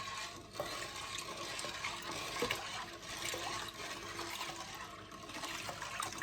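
Water runs and splashes steadily, a continuous liquid pour filling a cooking pot close by, with no voices.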